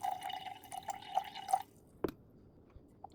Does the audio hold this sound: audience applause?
no